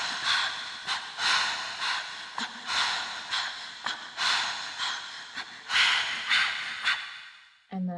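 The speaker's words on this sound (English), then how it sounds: "And that alongside with my like grounding breath sounds like this." Grounding breaths recorded as percussion for a Logic Pro instrumental, heard as close, loud, breathy inhales and exhales in an uneven rhythm, some drawn out like sighs, cut off abruptly just before the end.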